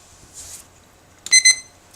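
A timer alarm rings in a quiet room as a short burst of two bright electronic beeps, fairly loud against faint background noise, with no talking.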